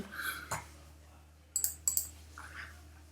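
Computer mouse clicks sound in a quick pair of small, crisp ticks close to the microphone, alone apart from faint background noise and a brief vocal sound.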